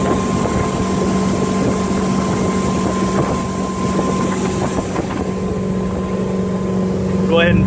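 A 2010 Cobalt 210 motorboat runs on the water with a steady engine drone and hull rush. Wind buffets the microphone throughout, and the sound stays loud and continuous.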